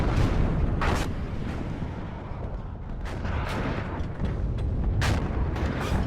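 Artillery fire in the WARNO real-time strategy war game: a dense, steady rumble of battle noise with several sharp bursts and booms cutting through at intervals, loud and continuous with no speech.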